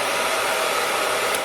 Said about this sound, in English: Here's the Babyliss Rapido dryer.